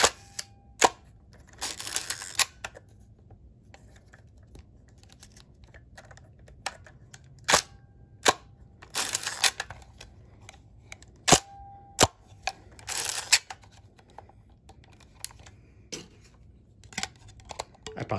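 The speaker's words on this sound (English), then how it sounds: "It's a beautiful camera. I love the sound it makes." A series of sharp mechanical clicks and clacks from a Hasselblad medium format camera, shutter snaps with ratcheting winding sounds in between, close and clear with no talking.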